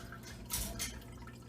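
Water drips into a betta fish acclimation container, with two soft, close drops about a quarter second apart over a quiet background.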